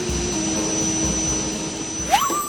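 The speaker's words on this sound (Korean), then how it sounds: "런던행 비행기가 곧 이륙할 예정이니 승객 여러분은 모두 탑승해 주시기 바랍니다" A passenger jet bound for London waits to take off, with a steady whining engine drone and a high whistling tone. A short rising swoosh comes near the end. No voices.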